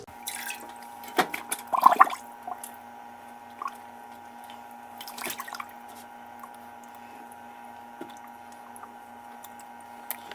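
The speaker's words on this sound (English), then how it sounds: "I'm going to add my turkey to the brine" A whole turkey is lowered into a pot of still-warm liquid brine, giving soft squishing and dripping sounds with a brief louder slosh near the start and scattered faint drips afterward, against a steady appliance hum in a quiet kitchen.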